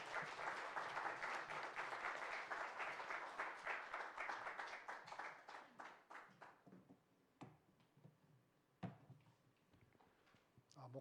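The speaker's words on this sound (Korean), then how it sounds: "다 같이 박수합니다." A church congregation at a Sunday morning service claps together, starting as a fairly loud rhythmic patter of many hands, then fading over several seconds into sparse, isolated claps and taps in a quiet room.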